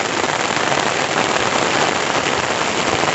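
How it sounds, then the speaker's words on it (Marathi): Heavy monsoon rain pours down over farm fields, a dense, loud and even hiss of drops striking surfaces with no break. "पाऊस खूप जोरात आला आहे"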